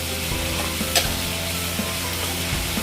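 Meat stir-fried in a pan during cooking of green beans: continuous sizzling with scraping stirs and light utensil clicks, steady and close.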